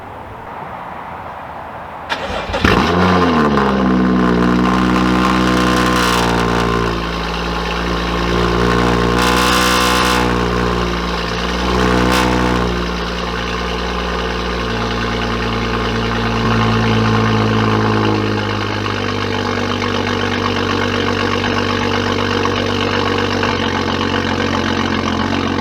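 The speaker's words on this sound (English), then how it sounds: "you'll get a nasty cold start because the car's been sitting a while" An N55 car engine cranks and catches on a cold start after sitting a while, then settles into a steady, rough idle that runs on with a low, continuous rumble.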